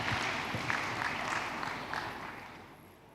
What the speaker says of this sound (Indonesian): Tepuk tangan dulu untuk AI